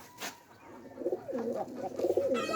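A pigeon, its toes all cut, coos close by in low, rolling warbling phrases that grow fuller toward the end, with no speech.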